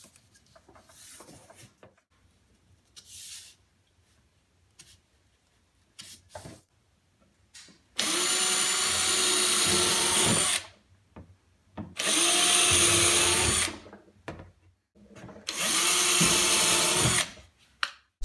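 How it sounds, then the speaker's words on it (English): A power drill boring holes for a Cessna 172 flight simulator build, with three loud sustained bursts of whirring separated by pauses, after quieter handling noises. "So right here, I drilled holes that were a little wider than 1/8 of an inch"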